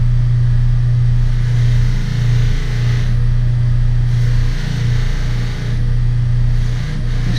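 A buffing wheel spinning on a motor while polishing solid brass door hardware with red rouge compound, giving a loud, steady, close low hum that dips slightly as the part presses against the wheel, with no talk.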